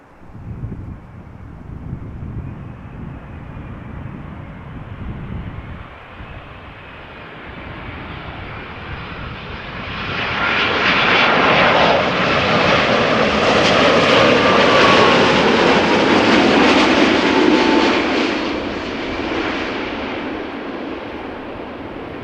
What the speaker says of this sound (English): This is a Boeing 787-9 Dreamliner, 3 years old, first flight August 2019.